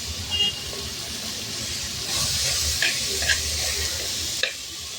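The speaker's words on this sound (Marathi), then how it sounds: "आणि हे असं छान तेलावर परतून घ्यायचं लागेल" Dill and spinach sautéing in oil in a pan over low gas, with a soft steady sizzle and occasional scraping stirs rising slightly midway, fairly quiet and close.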